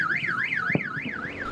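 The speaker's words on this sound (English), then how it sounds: "The powerful blast set off car alarms and shattered windows across the city." A car alarm, set off by a meteor blast over a city, wails in a steady rising-and-falling warble, loud and fairly close, with a brief thump partway through and no talking.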